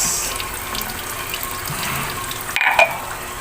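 Tap water runs steadily into a sink while dishes are washed, a constant close splashing hiss with a couple of brief clinks and knocks near the end, no voices.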